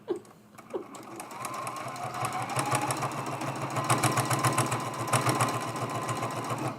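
A domestic sewing machine stitches the fabric binding of a quilted mug rug, a fast steady mechanical chatter that runs close and continuous after a couple of brief knocks at the start.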